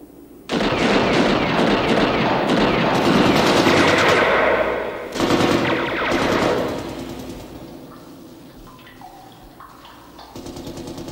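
Gunfire in an action crime movie, with bursts of rapid machine-gun fire and shots, loud and sustained for several seconds, then tapering into scattered echoing reports and quieter noise.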